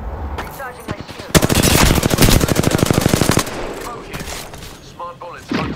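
Rapid automatic gunfire of smart bullets in a video game fires in a dense, evenly spaced burst lasting about two seconds, loud and close, with quieter game sounds before and after.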